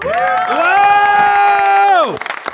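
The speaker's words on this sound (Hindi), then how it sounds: "नाम लेने से पहले बहुत सारी तालियां" Audience cheering at a stage drama after party, a crowd letting out a long sustained whooping roar that swells, holds for over a second and drops off abruptly, with scattered clapping and noise around it.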